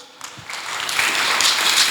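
A church congregation bursts into applause during a Sunday service, the clapping swelling from a few scattered hands into a steady, loud wave of many people that keeps building to the end, with no speech over it.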